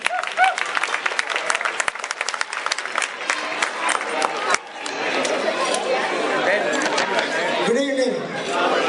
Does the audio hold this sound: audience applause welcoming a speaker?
yes